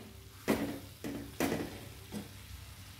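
Cabbage being stirred and fried in a pan: three or four soft scraping strokes against the pan, spaced about half a second apart, over a faint steady background hiss.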